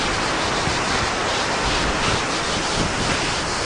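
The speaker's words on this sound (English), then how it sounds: "Yeah, it's a good waterfall," A waterfall in Iceland roars as a continuous broadband rush of falling water, loud and steady with wind buffeting the microphone, no voices.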